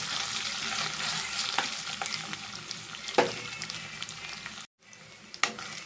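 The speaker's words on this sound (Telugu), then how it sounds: "అల్లం వెల్లుల్లి పేస్ట్ కూడా కొంచెం పచ్చివాసన పోయేదాకా ఫ్రై చేసుకోవాలి" Ginger garlic paste frying in a pan, a loud steady sizzle broken by sharp scraping stirs, a brief silence near the end, then more sizzling close up.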